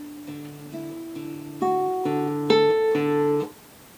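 A single bar of fingerpicked acoustic guitar, bass notes under sustained treble notes, swelling from soft to noticeably louder across the phrase before cutting off, played alone.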